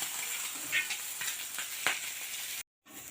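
Fish frying in hot oil, a fairly faint, continuous sizzle with a few soft pops and clicks, broken by a short gap near the end.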